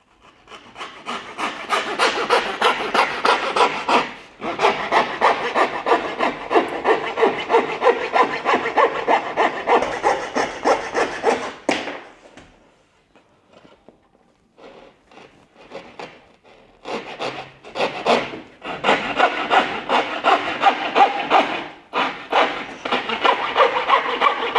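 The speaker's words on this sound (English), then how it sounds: "I personally love a coping saw." A coping saw cuts through wooden skirting board in long runs of steady back-and-forth rasping strokes, close and loud, broken by a short pause before the sawing resumes with no talk over it.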